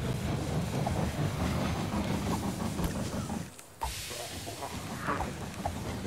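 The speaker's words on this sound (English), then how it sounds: "The train has arrived at the station." Train pulling into a station in the zombie strategy game They Are Billions: a steady broad rumble and rail clatter with a hissing wash, a brief dip near the end, then the rolling noise resumes with light clanks.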